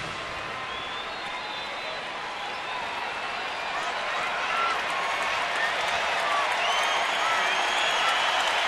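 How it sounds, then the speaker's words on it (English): Crowd noise at a Nationals baseball game in Washington, a sustained broad roar of many voices in the stadium that swells slightly toward the end, under faint announcer talk. "Crowd making some noise."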